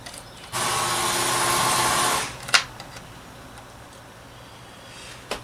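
A small electric screwdriver whirs for about a second and a half while removing screws from a meter, followed by a couple of sharp clicks and a quiet background.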